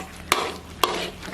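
Thothal, a Jaffna sweet with sago in oil, is stirred in a pan, giving two sharp scraping strokes a half second apart over a low, steady sizzle.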